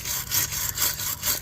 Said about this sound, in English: So I'm taking this brush and scraping out what I can.